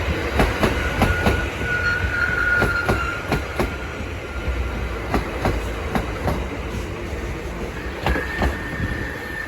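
A London Overground Class 710 electric train passing through Bethnal Green station, loud and close with steady rolling rumble, rhythmic wheel clicks over rail joints and occasional high wheel squeal, with no voices.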